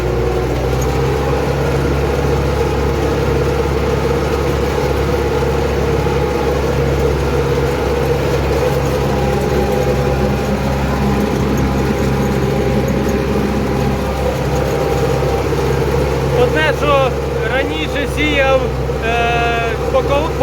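An MTZ-80 tractor with a beam axle drones steadily while sowing corn with an SU-8 seeder on a sloping field, a loud continuous engine rumble with a voice talking over it.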